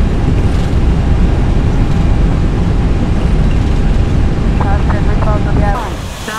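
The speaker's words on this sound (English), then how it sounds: "Reverse thrust." Airbus A320 engines roaring in reverse thrust during landing rollout on the runway, a loud broadband rush of jet noise filling the whole stretch, easing near the end as faint voices come through.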